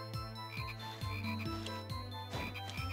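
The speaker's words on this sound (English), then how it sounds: "Got all those stock frog sound effects" Stock frog croak effects in the video game Castlevania: Portrait of Ruin repeat in a steady rhythm of low, regular croaks under a busy game soundtrack, fairly quiet throughout with no talking.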